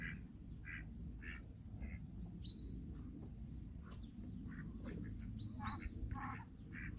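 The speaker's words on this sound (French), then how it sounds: "les canards Orpington sont beaucoup plus gros que les coureurs indiens." Several Orpington and Indian Runner ducks quack in repeated bursts, with nasal calls scattered over a steady outdoor rumble.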